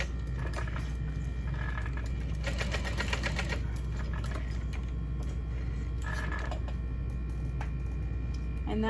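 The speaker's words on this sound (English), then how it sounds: "And then I like to sew a little back stitch" A sewing machine runs in short bursts, stitching back and forth on bag straps, with a rapid mechanical ticking and clatter over a constant low hum.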